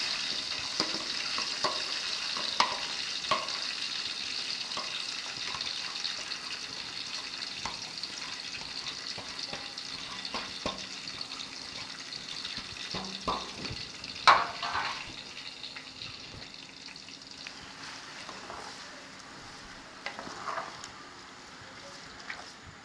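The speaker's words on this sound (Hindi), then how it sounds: "प्याज को हमने फ्राई कर दिया" Onions sizzling in hot oil in a large pot for a 5 kilo batch of chicken korma, a soft steady crackle with occasional stirring clatters and scrapes, no talking.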